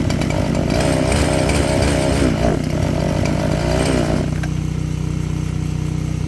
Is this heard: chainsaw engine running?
yes